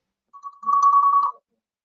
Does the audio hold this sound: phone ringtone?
yes